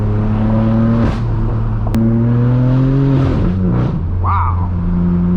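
A straight-piped, Gintani-tuned BMW M4 F82 exhaust roars loudly, revving up and down through several rising and falling sweeps with a sharp crackle midway, close and dominant.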